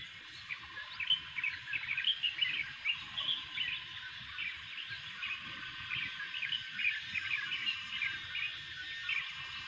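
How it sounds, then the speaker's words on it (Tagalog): Many birds chirp and twitter in a dense, continuous chorus in nature just after rain, faint and somewhat distant, with quick overlapping calls and no talking. "Naririnig nyo guys ang mga ibon"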